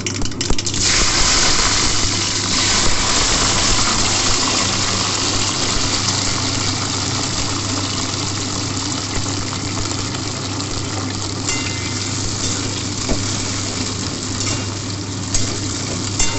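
Topa kul berries hit hot oil in a pan with tempered mustard seeds and dried chilli, giving a steady, loud, bubbling sizzle that holds almost unchanged throughout.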